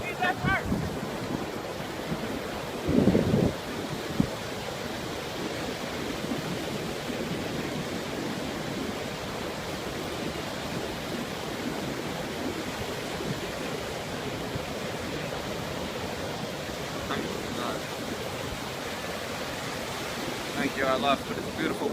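Pacific Ocean surf rolls onto the shore at San Francisco, a steady hiss of waves mixed with gusty wind buffeting the microphone, with a brief clatter near the start and people speaking now and then.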